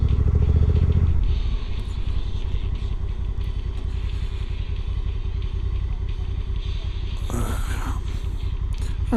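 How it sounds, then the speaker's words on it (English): Motorcycles rumble and idle close by at a campsite near an April rally, a steady low engine drone with a loud burst at the start and a brief clatter near the end. "There's a few bikes here, probably going to the rally as well."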